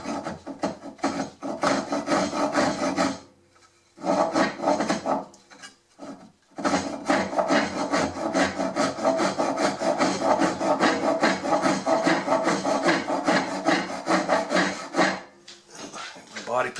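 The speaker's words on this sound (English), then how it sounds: "Start sawing" Close, rhythmic rasping of a hand saw cutting through wood, repeated strokes with a couple of short pauses between bursts.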